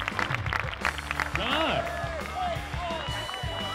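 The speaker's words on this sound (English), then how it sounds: "Give these contestants a big round of applause, will you please?" A talent show audience applauds the contestants, a fairly dense patter of clapping mixed with voices and a few whoops, under and around speech.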